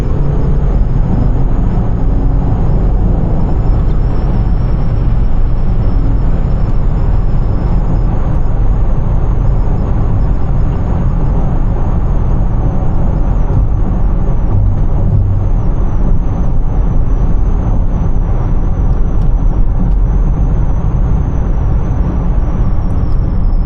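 A Mercedes W212 E250 CDI 4Matic diesel accelerating hard from about 80 km/h, with a loud, steady engine drone and road roar heard from inside the cabin, continuous and unbroken throughout.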